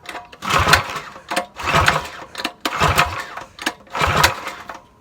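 A rebuilt minibike motor, whose valves were just re-lashed after it threw a rod, runs close by in rough, pulsing bursts with a wet gurgling note, surging and dropping roughly once a second with no talk.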